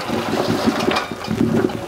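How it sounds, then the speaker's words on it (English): Beans cooked for an hour are poured into a strainer, giving a close, continuous rush of draining water with gurgling splashes for under two seconds. "So now I'm just going to take these off the stove and strain them"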